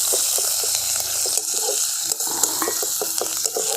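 Grated ginger and green chilli sizzle in hot oil tempering, a steady bright frying hiss with a few stirring clinks and scrapes, no voices.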